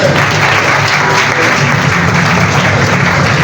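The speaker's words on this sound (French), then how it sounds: "Applaudissez, mesdames et messieurs." Loud, continuous applause rises from the audience at a youth book fair reading contest in Libreville, with dense clapping and a low rumble underneath.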